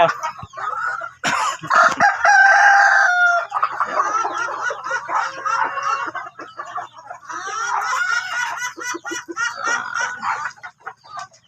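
Chickens cluck busily at a farm feeder while a rooster crows loudly nearby, the crow rising early and clucks continuing throughout, close and clear.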